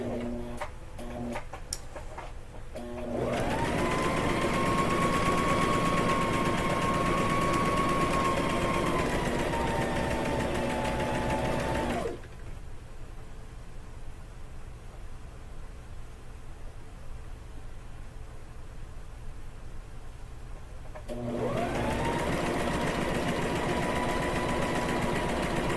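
A sewing machine back stitching fabric on a quillow runs in two long steady whirring bursts separated by a quieter pause, with a few quick ticks at the start.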